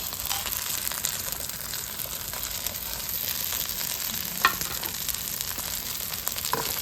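Curry leaves, fennel, cumin and pepper sizzle steadily in hot oil for a chicken kulambu, a dense continuous frying crackle with a few sharper pops, close and alone without talk.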